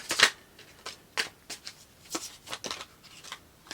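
Tarot cards shuffled close up for a reading, a series of crisp riffling bursts and soft slaps coming in an uneven rhythm, fairly quiet with no voices.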